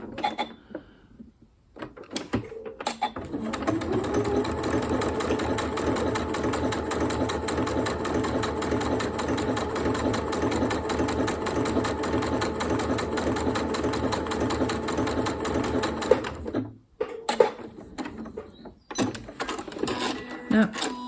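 A sewing machine stitches bunny whiskers onto fabric for an Easter bunny gift bag: a steady, fast mechanical whir runs for about fourteen seconds, then stops with a few short bursts and clicks.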